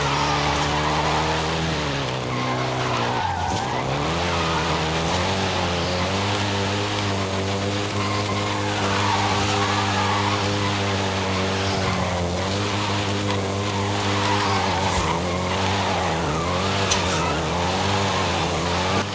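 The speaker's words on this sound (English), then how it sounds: "including the Golf GTI you're driving right now" Volkswagen Golf GTI driven in the racing game Forza Horizon 5 in Mexico, its engine droning loudly and continuously with rising and falling revs throughout.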